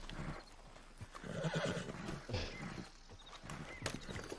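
A horse in Red Dead Redemption 2 Online whinnies loudly amid clip-clopping hooves and a busy, layered background of game ambience.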